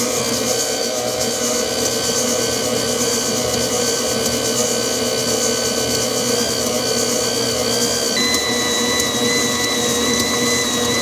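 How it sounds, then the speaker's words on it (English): An Instant Pot stand mixer creams butter and sugar, its motor humming loudly and steadily with a whining tone that shifts pitch partway through, no voices. "This is one aspect of a stand mixer is the creaming. It needs to effectively cream."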